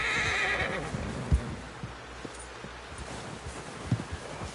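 A horse whinnies in Red Dead Redemption 2, followed by scattered clip-clopping hooves and soft rustling, moderately near with no talking.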